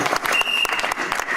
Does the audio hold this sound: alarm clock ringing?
no